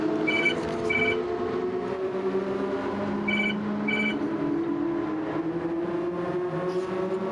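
A phone rings in two paired bursts of bright trilling tones, repeating after a pause. It sits over a loud, constant engine drone from a GT7 race at Goodwood.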